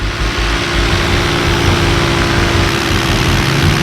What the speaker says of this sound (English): My engine's making a sort of kicking effect now and again.